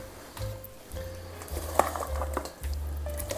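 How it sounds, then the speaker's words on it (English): A carrot apple salad with onion is tossed in a bowl, with a utensil scraping and clinking against the dish in several uneven strokes, close and fairly quiet, with no talking. "let's give this a mix"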